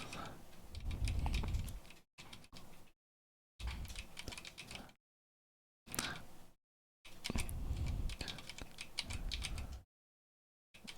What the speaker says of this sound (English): It's actually really hard for me on my Corn keyboard to type 0, space